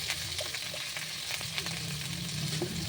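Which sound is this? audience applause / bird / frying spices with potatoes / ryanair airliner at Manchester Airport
frying spices with potatoes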